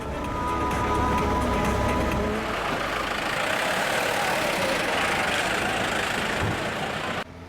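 A car engine drones steadily while driving along a dry road through thick mountain forest in Sikkim, a constant low rumble with road noise throughout that cuts off abruptly near the end.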